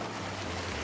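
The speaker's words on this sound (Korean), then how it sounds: "폭포 나왔습니다." Waterfall in a remote mountain village in Jeongseon, Korea, heard as a steady, loud broadband rush of falling water with no pauses and no voices.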